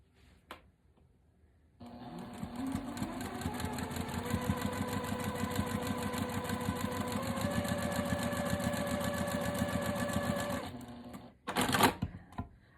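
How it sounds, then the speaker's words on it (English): A sewing machine stitches a 1/4 inch seam down the bias edge of two cotton quilt pieces, running steadily and close for about nine seconds before stopping, followed by a short mechanical burst. "So I'm going to take a 1/4 inch seam all the way down that bias edge and sew these"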